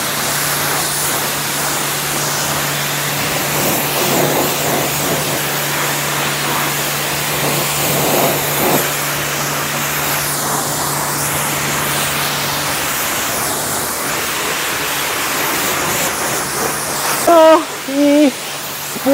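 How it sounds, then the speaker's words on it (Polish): A pressure washer rinses a car in a self-service car wash bay, giving a steady, loud hiss of spraying water that runs nearly unbroken, with a few brief louder bursts near the end. "To co robimy? Spłukiwanie."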